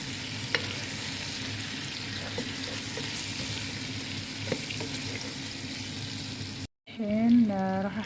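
Meat and potatoes frying with spices in a pot as they are stirred, a soft continuous sizzle with occasional scraping clicks, then a brief gap followed by running water and a short voice.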